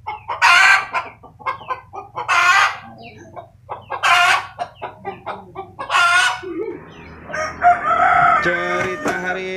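Chickens and roosters at a poultry market in Bondowoso, with repeated loud rooster crows over steady clucking and a busy market hum.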